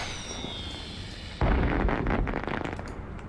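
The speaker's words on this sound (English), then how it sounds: "No, fireworks." Fireworks explode in the Astroneer video game, a sudden loud burst followed by a dense crackling of small pops and bangs that slowly thins out, with no voices.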